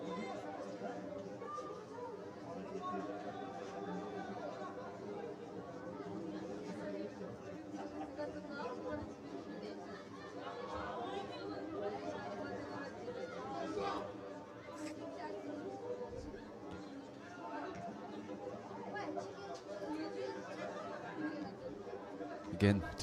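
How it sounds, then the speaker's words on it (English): Murmuring football stadium crowd at a Bhutan Premier League match between Thimphu City FC and RTC FC, a steady, distant wash of chatter with a groan of disappointment rising now and then. "disappointments audible in the crowd, which I'm sure you will hear because we do have the ground sound turned on"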